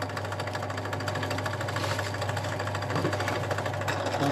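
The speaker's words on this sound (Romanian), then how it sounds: "Nu opresc mereu mașina de găurit." A drilling machine bores holes in picture frames held in a jig. Its motor gives a steady, dense mechanical whir with rapid rhythmic chatter, running continuously and fairly near.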